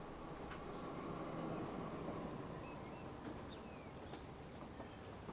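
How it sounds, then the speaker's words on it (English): A long Shinkansen bullet train ride in the video game Transport Fever 2 gives a faint, steady, continuous rolling rumble with light hiss, with no clear individual clicks or horn. "That's a long train."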